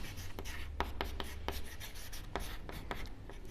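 Pen strokes on paper as numbers are written along a plain scale for an engineering graphics problem: a run of short, distinct scratching taps at an uneven pace, close and fairly quiet, with no talk.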